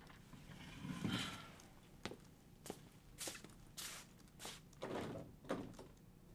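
Someone rattling and tugging at a locked door, several sharp knocks and handle clunks spread over a few seconds against a faint, hissy background, with no talk.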